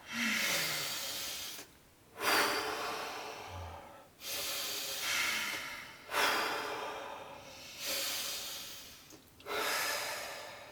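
Deep, forceful breaths during Wim Hof Method breathing practice, in a slow steady rhythm of about five long airy inhale-exhale cycles with brief pauses between, close to the microphone and with no talking.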